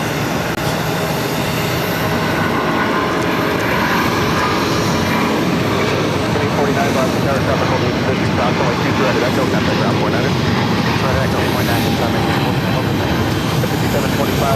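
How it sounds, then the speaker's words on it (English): Air France A350 airliner rolling for takeoff at Boston airport, a loud continuous jet engine roar with broadband rushing noise throughout, radio voices talking over it. "We also have Air France A350 rolling."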